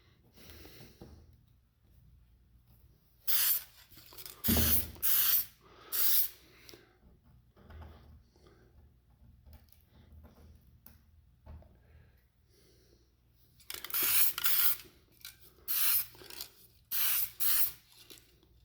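Spray paint hissing onto small HO scale locomotive parts, including the end rails of a Bachmann GE 70 ton switcher, heard as close, loud bursts in two clusters with quiet pauses between them.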